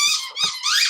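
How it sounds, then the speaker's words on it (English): A dog chews a squeaky toy, producing three rapid high-pitched squeaks in under a second, loud and close with no talking. "That's my dog playing with a obviously squeaky toy."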